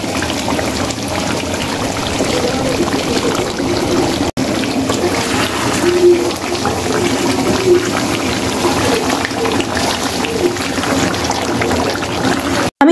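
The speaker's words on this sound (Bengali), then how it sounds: "চিকেনগুলো অ্যাড করে দেওয়ার পর আমি এটাকে ভালো করে কষিয়ে নিব।" Chicken pieces sautéed and browned in a pan for Bengali-style kosha murgi give off a steady, close frying sizzle that holds evenly throughout, with no voices over it.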